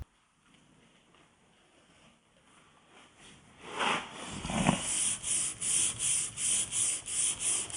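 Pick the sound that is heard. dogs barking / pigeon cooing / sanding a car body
sanding a car body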